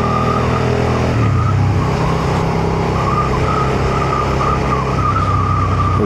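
A Suzuki SV650 600cc V-twin motorcycle engine hums steadily while riding through a residential area, a loud continuous drone with wind and road noise and no talk over it.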